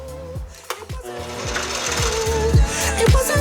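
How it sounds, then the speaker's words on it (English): A metal lathe in a home garage runs with a steady motor hum and a whining tone, with repeated knocking and cutting bursts at a quick, uneven rhythm, close and fairly loud. "if I just reverse the rotation of the lathe, now it's right side up"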